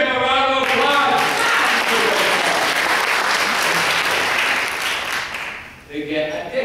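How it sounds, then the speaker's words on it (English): A school assembly audience bursts into loud, sustained applause for a kid, a dense wash of clapping that holds steady for several seconds before tapering off, with voices audible at the start and end. "give him a round of applause"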